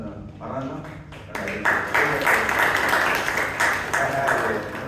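Applause at a Toastmasters club meeting in Bangalore after an evaluation, a moderate round of clapping that starts after a brief pause and continues steadily to the end.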